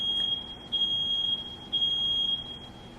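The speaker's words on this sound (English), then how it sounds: "I don't know what is beeping in my house." Electronic smoke-alarm style beeping inside a house: three sustained high-pitched tones of roughly equal length, each separated by a short gap, steady and fairly clear over a low background hum.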